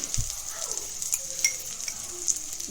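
Garlic pickle fries in a pan for dum idli, a steady close hiss of sizzling oil with a few faint pops and stirring sounds.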